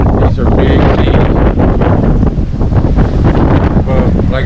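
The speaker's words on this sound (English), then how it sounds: "These are big seas." Strong wind roars across the microphone over heavy ocean seas as a sailboat runs under a triple-reefed sail with wind-vane steering, 30-knot winds, sailing single-handed from Bermuda to Key Largo; loud, continuous buffeting with surging wave wash.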